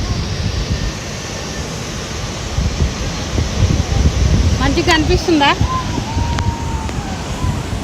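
A small waterfall gives a constant broad rushing roar, close and loud. A person speaks briefly over it, and a few short chirpy calls rise and fall midway.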